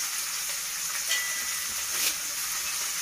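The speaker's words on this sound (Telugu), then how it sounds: "ఈ విధంగా తొందరగా ఆయిల్లో వేగిపోతుందన్నమాట ఇప్పుడు మనం కరివేపాకు వేసుకుందాం" Curry leaves frying in hot oil while cooking a brinjal and okra curry, giving a steady, close hissing sizzle with slight crackling swells throughout, no voices.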